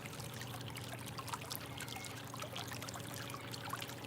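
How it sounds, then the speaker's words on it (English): Steady trickling, pouring water surrounds the listening position, a continuous gentle stream with soft bubbling detail and a low rumbling undertone, even in level throughout and with no voices. "I'm really able to tune into the sound of the water around me"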